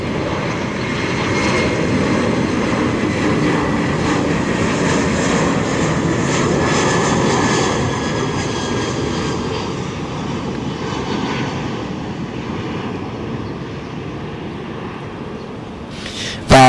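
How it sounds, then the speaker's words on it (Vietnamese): A Vietravel Airlines Airbus A321 in its original livery lands at Tan Son Nhat airport with a loud, sustained roar of jet engines. The roar holds steady, then slowly recedes over many seconds, with no voices. "chiếc Airbus A321 của hãng hàng không Vietravel. Chiếc máy bay với màu sơn từ ngày đầu của hãng và đang hạ cánh xuống sân bay Tân Sơn Nhất."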